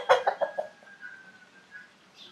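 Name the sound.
roosters clucking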